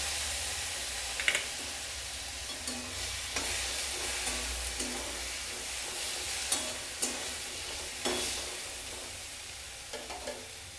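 A ginger and coriander spice paste, mixed with water, sizzles steadily in a pan for a dal and spinach dish, with a constant frying hiss broken by repeated close scrapes and knocks of stirring.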